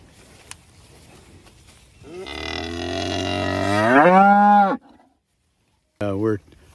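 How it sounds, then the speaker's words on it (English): Cattle being turned into a fresh section of drought-stricken pasture give a long, loud, rising moo lasting nearly three seconds, then fall silent before a shorter second moo starts, with a faint click and quiet outdoor background. "We're turning the cows into the next section of pasture"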